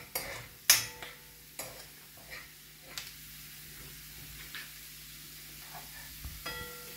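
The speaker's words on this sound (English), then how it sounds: "Now I'm gonna let the garlic and ginger get a little bit golden brown." Garlic and ginger frying in a pan for dal tadka, a soft steady sizzle under intermittent stirring knocks and utensil clinks, close by.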